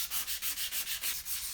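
Rhythmic back-and-forth strokes of sandpaper on motorcycle fork outer tubes, about eight quick even passes, close and fairly quiet, with no voices.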